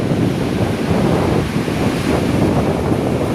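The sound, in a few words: Unchalli Falls waterfall roaring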